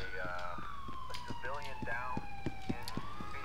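An ambulance siren in GTA IV with the LCPDFR police mod wails in steady rising and falling sweeps, with busy game noise and faint voices underneath.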